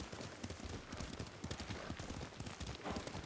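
Horse hooves clip-clop steadily as a rider travels in the Ghost of Tsushima video game, a fast, continuous close patter of hoofbeats with no speech.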